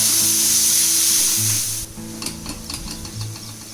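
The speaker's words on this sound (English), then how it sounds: "Now is the time you put in your tomatoes. And cook them nicely till they become mushy." Tomatoes drop onto fried onion and garlic in a hot pan. A loud sizzle eases into quieter frying with repeated spoon scrapes and clinks as the mixture is stirred, close by, with no talking.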